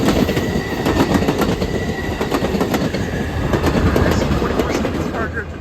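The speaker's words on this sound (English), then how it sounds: "The rails are making metal sounds because both the wheels and the rails on the train are metal." An Amtrak Capitol Corridor train led by cab car 8301 and SC44 locomotive 2123 rolls past close and loud. Metal wheels clatter rhythmically on the rails with faint squeals, and no one talks.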